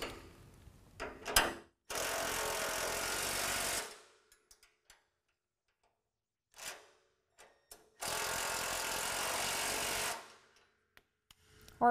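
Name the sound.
tightening nylock nuts with a 17mm wrench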